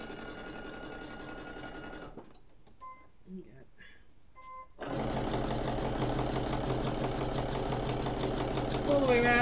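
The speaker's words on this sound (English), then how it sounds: "Just following that curve round really gently and just zigzagging." A sewing machine zigzag stitching close, satin-like stitches around the curved edge of a fabric tortilla warmer, a fast steady mechanical whirr that pauses for about three seconds, then resumes louder and continues.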